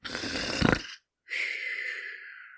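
A person imitates snoring with two loud, drawn-out rasping snores, the second ending in a higher whistling tone, separated by a brief pause.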